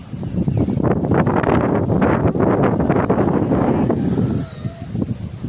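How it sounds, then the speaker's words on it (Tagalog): Strong wind buffets the microphone in loud, continuous gusts, roaring up close before easing slightly near the end. "Lakas ng hangin dito guys."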